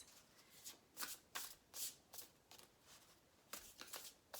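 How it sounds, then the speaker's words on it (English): A deck of cards being shuffled by hand, soft riffling bursts repeating in an irregular rhythm, close and quiet, with no talking over it. "Just gonna keep shuffling for a minute to get a sense."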